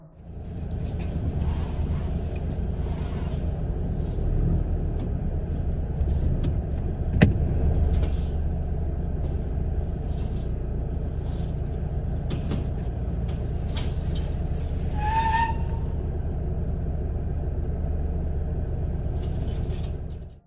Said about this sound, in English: Footage shows the driver making several attempts to drive back and forth before white smoke begins billowing from under the bonnet